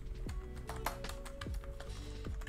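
Keys clacking at a steady, quick pace on a computer keyboard while a code note is typed, close and fairly quiet, with no talking.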